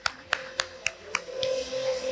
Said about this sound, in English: Give a huge round of applause for him too.